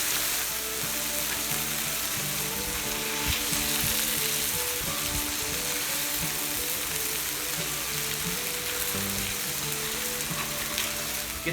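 Burgers fry on a cast iron griddle with a steady, broad sizzle that holds at an even level throughout, close up, with faint clinks and scraping from a spatula in the background.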